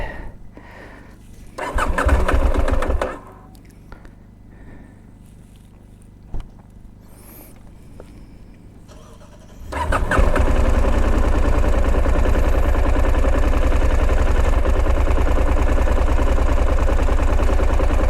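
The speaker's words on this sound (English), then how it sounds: "The bike didn't start on the first try. Trying again." A KTM 890 Adventure motorcycle engine struggles through a brief failed cranking attempt, pauses with faint clicks, then catches and runs loud and steady, roughly on one cylinder with the throttle slightly open.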